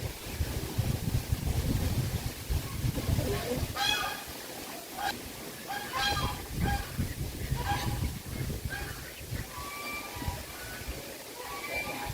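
Ducks and geese honking and quacking in several bursts at a riverside garden cafe, set against steady wind and water noise with low rumble throughout.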